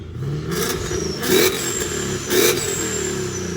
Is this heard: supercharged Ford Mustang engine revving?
yes